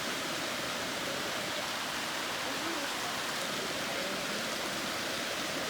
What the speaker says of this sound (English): We're walking up to a waterfall.